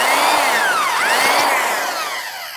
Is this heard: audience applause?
no